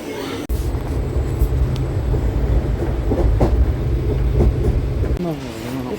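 A train stands or moves at a railway platform at a station, giving a loud, steady low rumble close by for most of the clip, with a sudden start and a drop-off near the end.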